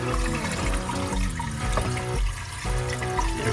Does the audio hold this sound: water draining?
yes